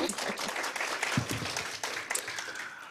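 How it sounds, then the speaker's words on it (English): Audience at a Veteran-Directed Home and Community Based Services event in Mechanicsville, Virginia gives panelists a full, sustained round of applause, dense and even throughout. "I think we owe one more big round, robust applause to our wonderful panelists"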